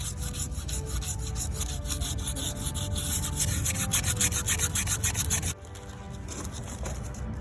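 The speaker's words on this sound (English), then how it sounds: "Going to get most of this rust off and just finally scratch up the surface." Rust is scraped off a metal part from a 1975 Ford E100 van in fast repetitive strokes, a close, steady abrasive rasp that eases into a quieter scrape near the end.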